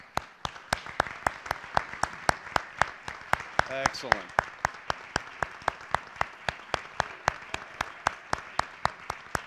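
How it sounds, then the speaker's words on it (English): An honors convocation audience claps in a steady, evenly timed rhythm, sharp distinct claps repeating throughout, with a brief voice speaking partway through. "Good applause there"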